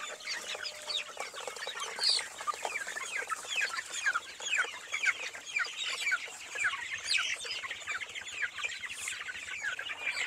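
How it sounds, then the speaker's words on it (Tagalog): Young chicks on a poultry farm at feeding time, a dense chorus of rapid high peeps and chirps close by, overlapping continuously with some low clucking and a soft rhythmic pecking patter near the end. "Dito na naman tayo sa mga sisiw natin dahil magpapakain tayo sa kanila"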